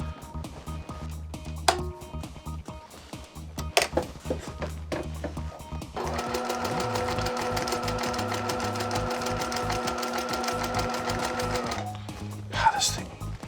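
Bernina 1008 sewing machine stitching an invisible hem stitch, a steady, fast, even whir of needle strokes running for about six seconds in the middle, with clicks and handling before and after and a person speaking around it.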